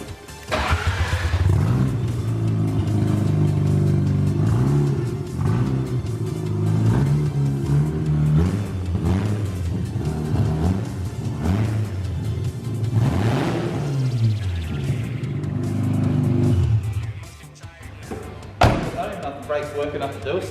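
A BMW E36 ute's engine revs and accelerates on its first drive, rising and falling in pitch over a steady rumble. Voices talk over it, and a thump is heard near the end as the engine drops away.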